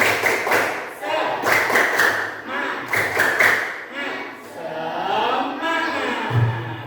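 A sixth-grade primary school class in Indonesia claps out a rhythmic spirit cheer in repeated sharp bursts, with a teacher and children's voices chanting over it.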